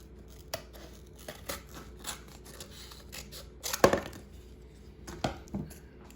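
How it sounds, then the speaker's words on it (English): Scissors snipping through a cup for a children's craft project: scattered close crunchy cuts and snips, one sharper louder cut in the middle, with light handling noise. "If you need help to cut your cup, you can ask your parents or any adult to help you to cut your cup."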